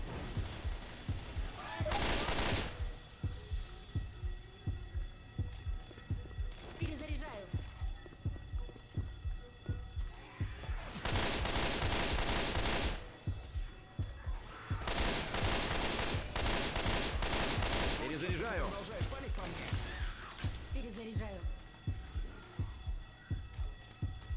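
Bursts of rapid gunfire repeat between quieter stretches over a steady hum and throbbing background, with game-style effects throughout.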